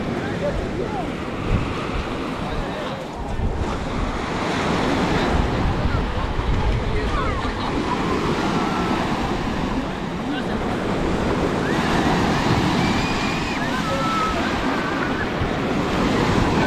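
Small sea waves wash steadily onto a pebbly resort beach at Lazarevskoye near Sochi, a continuous surf wash with wind buffeting the microphone and faint voices of a crowded shore in the background.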